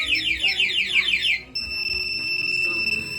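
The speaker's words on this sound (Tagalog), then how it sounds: "nag-alarm yung remote at saka yung motor" A loud electronic two-way alarm on a Rusi Macho 150 motorcycle warbles in rapid chirping cycles, then shifts to a steady high-pitched tone that keeps sounding.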